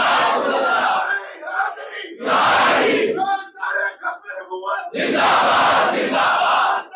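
Large crowd at a religious gathering shouting a slogan in unison, three loud massed bursts of chanting separated by short pauses, with a lone voice leading between them.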